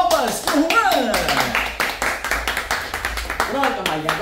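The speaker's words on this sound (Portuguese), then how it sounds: "Uma salva de palmas pro Juan!" A TV studio audience claps for Juan, a contestant on a Brazilian show, with sharp close claps over rising cheers and excited shouting voices throughout.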